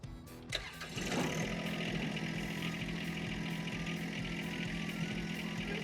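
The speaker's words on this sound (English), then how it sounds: "So we're gonna go ahead and fire up the tractor." A John Deere 120R tractor engine cranks and catches, then settles into a steady, close idle with a constant low drone, no talking.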